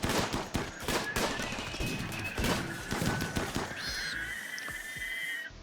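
Rapid gunfire in the RimWorld video game: dense overlapping shots crackle in quick bursts, then thin out, with a few electronic tones near the end.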